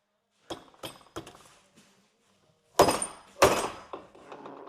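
Sharp metallic hammer blows strike a car part hard: three lighter hits, a pause, then two loud heavy bangs with ringing decay.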